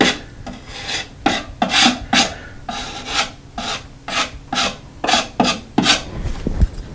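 Excess spackle being scraped off a wall around a patched hole where a towel rack was removed, a loud close rhythmic rasping of about a dozen strokes in steady succession, with no talk.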